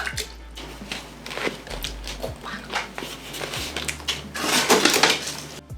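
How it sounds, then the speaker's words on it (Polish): Water sloshes and splashes inside a flower pot cover as it is tipped over, giving close, uneven gurgles and spills that swell near the end, with faint handling knocks. "Przerzucam ją, pewnie słyszycie wodę."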